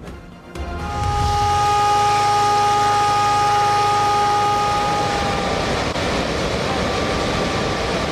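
A warning siren near the Rawal Dam spillways in Islamabad sounds a loud, steady tone that alerts nearby residents. It holds for several seconds before giving way to a broad wash of noise.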